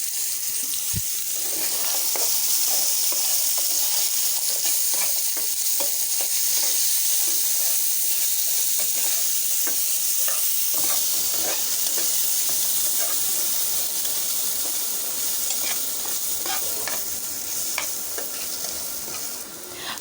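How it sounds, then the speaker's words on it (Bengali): Potatoes with turmeric and salt fry in oil left over from frying chicken, giving a steady, close hiss of sizzling fat broken by frequent scraping and stirring clatter from the pan. "মাংস ভাজা তেলের মধ্যে দিয়ে দিচ্ছি আলু"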